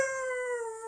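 A man imitates a dog barking and whimpering in its sleep, producing a single sustained, steady howl-like tone held close to the microphone for about a second.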